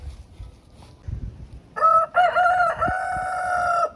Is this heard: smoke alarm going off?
no